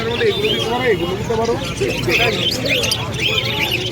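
Birds at a pet bird market, chirps, tweets and cooing rising over steady market chatter and voices throughout.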